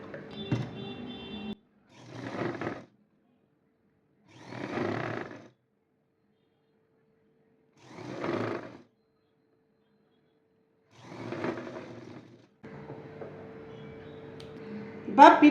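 A sewing machine stitches along the edge of blouse fabric in five or six short, evenly spaced whirring bursts separated by silence, close and moderately loud.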